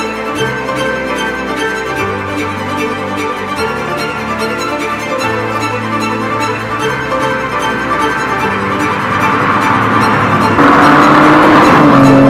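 A BMW Z4 sDrive 23i with a naturally aspirated 204 hp six-cylinder engine runs steadily, holding a smooth, even tone that builds louder and higher toward the end, with no talking.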